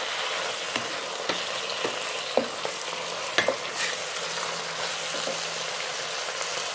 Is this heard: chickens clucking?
no